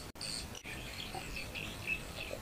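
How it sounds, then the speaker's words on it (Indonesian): Crickets kept as fishing bait chirp steadily and close by, a continuous high shrill trilling with no talk over it. "Wah, jangkrik ini."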